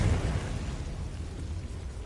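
A Confringo blast spell in a video game, a deep rumbling explosion that booms loudly at the start and then settles into a sustained low roar for about two seconds, with no talk.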